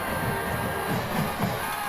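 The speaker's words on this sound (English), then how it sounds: "And listen to the San Angelo crowd." A high school football stadium crowd in San Angelo roars in a steady, dense wash of cheering and noise during a game, loud and continuous throughout the short stretch.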